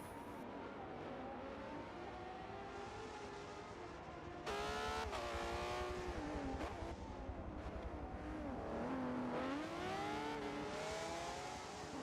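Hypercars racing at night on the COTA circuit in a racing game, engines screaming and over-revving, with rising and falling pitch through gear changes, loud and continuous as one car passes close.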